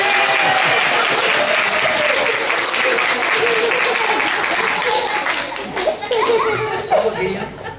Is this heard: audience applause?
yes